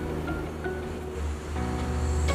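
Big ocean waves surge and wash continuously against the rocky, sandless shore of Batu Kera beach, a steady loud roar with a swelling push in the final second.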